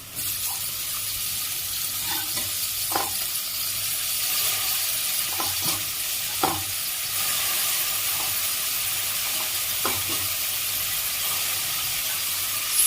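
Tomato pieces dropped into a pot of simmering capsicum and paneer curry cooked without oil, giving a steady bubbling hiss with a few soft, sharp clinks and plops spaced through the clip, close and with no voices.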